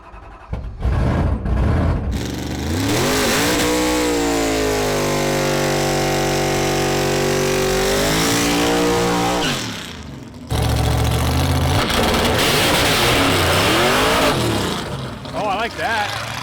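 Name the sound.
race car with diaphragm clutch accelerating on a pass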